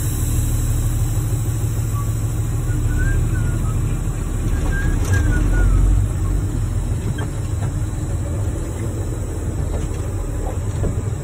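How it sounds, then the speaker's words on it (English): A CDL truck rolling forward at about 5 mph before braking to a complete stop, heard as a steady, close, low engine rumble with road noise that stays even throughout, without any voices. "I'm gonna pull forward around 5 miles per hour and come to a complete stop."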